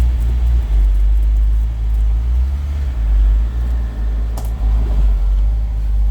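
An old Lincoln, revived after more than 30 years, runs on a test drive: a loud, steady low engine drone and road rumble from inside the car, with no talking.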